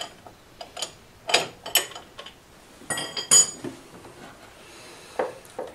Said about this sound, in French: à l'aide d'une clé plate de 21, vous venez desserrer votre bougie que vous allez retirer complètement